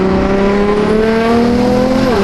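A BMW M4 engine revs hard, holding a loud, steady high-pitched whine with a slowly rising tone before it dips at the end, close and with no talking.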